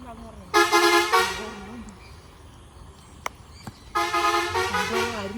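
A bus horn blares loudly twice on a road, each a long, multi-toned musical blast lasting over a second, with quieter traffic and voices between them.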